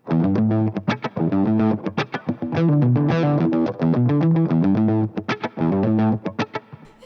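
A heavily distorted electric guitar, a black Gibson, plays a choppy, rhythmic riff with punchy repeated chords and short gaps, loud and up front.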